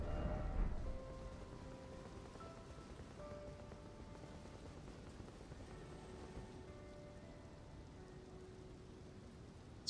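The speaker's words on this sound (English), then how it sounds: "I'm pretty sure it's always raining in this area" Steady rain falls in a cloudy, high-up area, a continuous soft hiss of drops with no voices, after a brief louder burst at the start.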